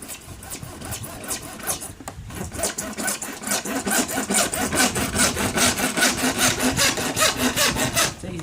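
A hand saw cuts through a 900mm length of 90mm PVC pipe in steady back-and-forth strokes that grow louder and more regular, a close, continuous rasping rhythm with no talking.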